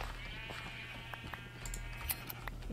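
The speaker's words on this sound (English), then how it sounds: "let's get some wool from all the Gura sheep" Sheep bleat faintly in a Minecraft-style video game, a few short quavering calls over quiet ambient game sounds and light clicking.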